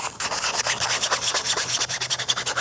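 Hand sanding a 3D-printed prop with 220 grit sandpaper, a steady series of quick, close scratchy back-and-forth strokes, evenly rhythmic and fairly loud, with no voices.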